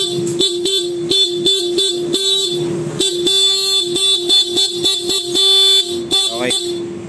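A stock motorcycle horn on a Honda ADV160 honks in a rapid series of short blasts with a few longer ones, loud and close, a steady tone repeating throughout.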